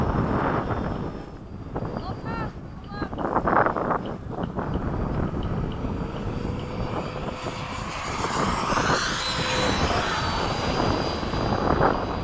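A Freewing 90mm F-15 model jet flies at a morning field session, its engine a steady whine and roar that swells and rises near the end, with wind buffeting and people talking over it.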